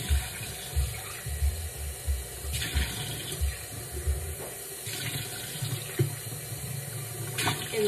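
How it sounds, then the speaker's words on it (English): Running tap water filling a barbicide jar at a nail salon sink, a continuous hiss with soft gurgling pulses and a few small knocks, moderately quiet and alone with no talking. "let me turn the water off. I just filled the barber side jar up with water"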